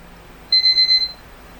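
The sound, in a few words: phone alarm clock beep tone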